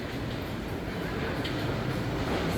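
A park train at Busch Gardens Tampa in Stanleyville rumbles past close by, a dense, steady roar of wheels and carriages with no pauses for its whole length.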